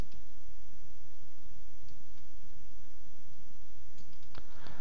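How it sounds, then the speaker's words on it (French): Computer mouse wheel clicking in a few sharp, isolated clicks, close and dry against a quiet background. "On clique sur la molette, on clique sur la molette, on clique sur la molette."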